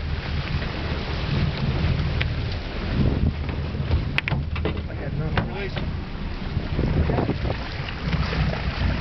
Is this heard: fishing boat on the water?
yes